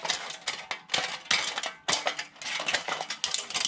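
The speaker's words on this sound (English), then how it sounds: "cut like a spiral pattern around until you can kind of straighten out your scissors." Crisp metallic snips and crunches in quick irregular bursts as scissors cut through thin metal for a homemade alcohol cook stove, close and loud with no talking.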